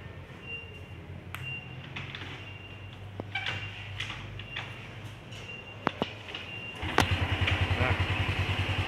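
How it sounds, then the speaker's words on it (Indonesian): A Honda Revo motorcycle sits quietly with a few faint clicks, then its engine fires up near the end and settles into a close, steady, rapid idle chug. "langsung nyala motornya"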